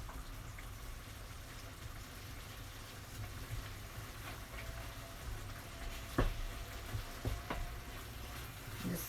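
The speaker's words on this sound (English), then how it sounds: "Okay, I put the tuna in, and you just want to break that up a bit." Chunks of tuna sizzle and fry in a pan for spaghetti with tuna and tomato sauce, with a steady crackle and occasional scraping and stirring knocks as the fish is broken up.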